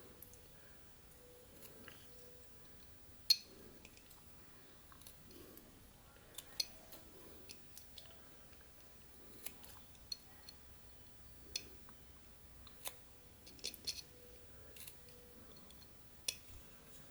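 A whittling knife carves basswood in faint, sparse, close cuts and small clicks over a quiet background, with occasional sharper snicks.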